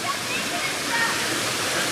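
Small outdoor waterfall with low water flow, seen on a dirt-road trip, giving a steady broadband rush of falling water close by, continuous without breaks.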